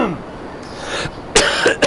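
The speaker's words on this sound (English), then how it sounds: "Let me try to clear my throat here." A man who is a little sick clears his throat a few times up close, a short rough rasp followed by a couple of sharper harsh bursts near the end.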